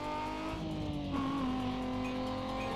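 A racing car engine in Need for Speed Most Wanted held at a high, steady revving drone while driving at speed, with a slight pitch shift midway, loud and constant with no talking.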